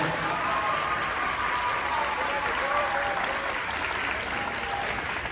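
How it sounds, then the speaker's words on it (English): An audience at a high school aviation symposium closing ceremony applauds, a dense steady wash of clapping from a crowd that holds for the whole stretch. "Y'all give her a big round of applause."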